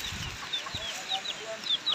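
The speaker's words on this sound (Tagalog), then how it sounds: "Dami mo ng manok ha, Aaron." Chickens cluck in short, scattered calls against a steady outdoor background, with a few soft low thumps and no clear talk.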